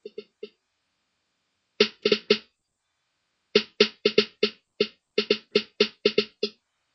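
Short crisp snare hits from a hip-hop beat programmed in Reason 4.0, played alone in sparse clusters with gaps, building into quicker repeated strikes like a small roll, clean and close.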